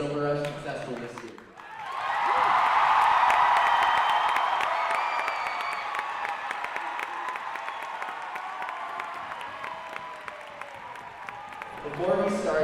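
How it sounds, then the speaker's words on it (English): A high school crowd at a Silver Rush celebration at Riverton High bursts into loud cheering and applause after a brief voice, swelling and then sustaining before a voice returns at the end. "can I please have you give a loud cheer to those who made Silver Rush successful this year?"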